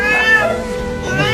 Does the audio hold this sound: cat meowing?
yes